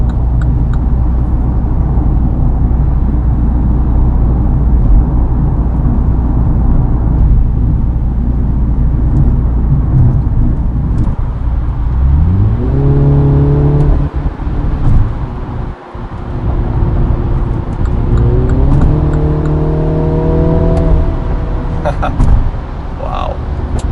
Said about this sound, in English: Acceleration, the exhaust, the engine sound.